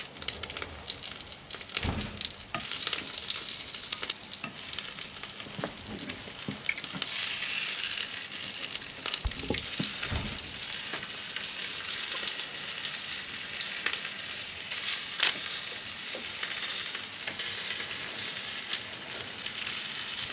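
Pumpkin, potatoes and sweet potatoes cook over an open campfire, with a steady, fairly loud sizzle and crackle running throughout. Occasional thumps and clinks of handling rise above it, and no one speaks.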